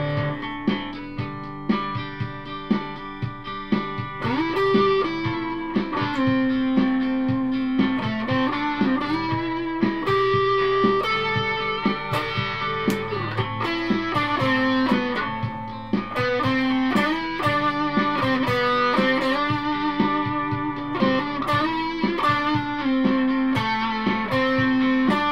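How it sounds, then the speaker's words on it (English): An electric guitar, an Aria Pro II Mega Metal or a Fender Stratocaster, played through a distortion pedal, with sustained gritty notes and bends in an unbroken loud solo passage with no talking. "I'll go for some distortion and continue on with this a little bit more"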